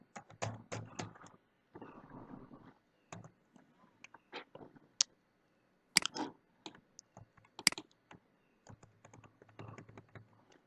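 Computer keyboard typing while a new blank document is written: bursts of quick, close key clicks with short pauses between runs, plus a few sharper, louder keystrokes standing out, with no voices.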